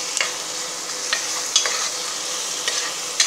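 Ginger garlic paste and chilli fry over low heat for chicken kulambu, giving a soft even sizzle broken by a few light spatula scrapes.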